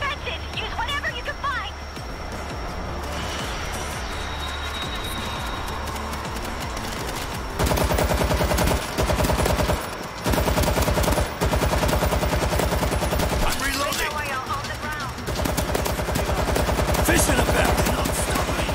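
Bursts of rapid automatic gunfire from a machine gun in the World War Z video game, loud and sustained, broken by short pauses, with players talking over it at times.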